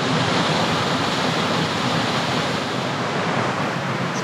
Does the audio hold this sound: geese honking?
no